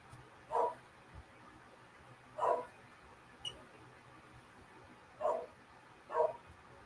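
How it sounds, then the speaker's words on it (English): A dog barks four times in separate single woofs, spaced a second or two apart, at moderate distance over a low background hum. "he's barking his freaking fool head off"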